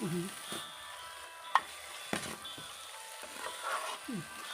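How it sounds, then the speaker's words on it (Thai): Beef stir-frying in a pan for a Thai curry with Chinese cabbage and choy sum: a steady close sizzle broken by a few sharp spatula scrapes and knocks against the pan. "ตรงนี้เราผัดให้หอมเลยนะ"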